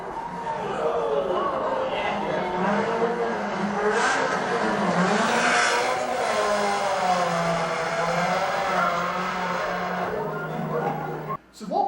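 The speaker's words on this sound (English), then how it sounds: "let's have a watch of a brief video clip of a rally car racing down here on Earth" A rally car races along a dusty road, its engine revving and roaring with shifting pitch and occasional tire scrabble, loud and continuous, ending abruptly.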